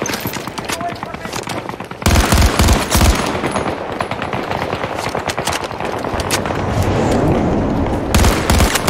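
Loud, sustained gunfire in the Battlefield 2042 video game, with rapid machine-gun bursts and heavy booms that go on throughout. A few voices are mixed in.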